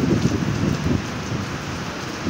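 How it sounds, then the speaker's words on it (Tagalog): Heavy rain pours steadily onto surfaces, a close, dense hiss of drops with a low rumble beneath, sustained without a break and with no voices. "lalong lumalakas yung ulan"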